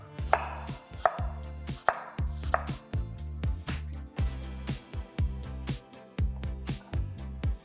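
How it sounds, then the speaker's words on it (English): A knife chops crisp apples into small cubes on a board, a quick steady series of close, sharp taps repeating throughout without speech. "you wanna actually cut the apples not into slices, but into nice cubes"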